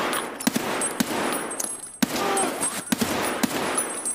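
Gunfire in the video game Escape from Tarkov, a run of sharp single shots spaced unevenly over a steady background rumble, moderately loud with no talking.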